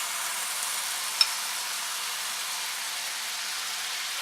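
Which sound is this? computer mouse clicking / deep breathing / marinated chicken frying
marinated chicken frying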